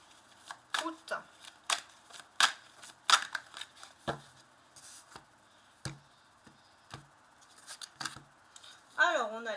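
Tarot de Marseille cards are shuffled and snapped close by in quiet bursts of crisp riffles and soft slaps, spaced irregularly, with a brief voice near the end.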